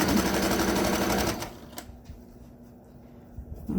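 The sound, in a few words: sewing machine stitching a surgical cap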